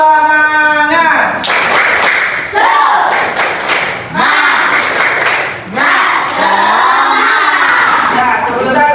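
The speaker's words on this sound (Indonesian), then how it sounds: "Tepuk semangat." A school class does a rhythmic spirit clap together, loud bursts of clapping and thumping mixed with children's shouted chanting throughout.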